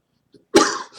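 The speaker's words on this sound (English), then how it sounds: "Ignore the coughing." A single sharp cough bursts out close to the mic, preceded by a faint intake and trailing into a short breathy tail.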